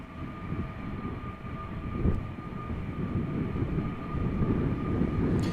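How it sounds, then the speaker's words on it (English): Airliner taxiing toward the runway threshold at Amsterdam airport, a continuous distant engine rumble and whine with a steady tone, gradually swelling slightly, no talk. "passing by the entrance to the runway, meaning it's going to go to the runway threshold."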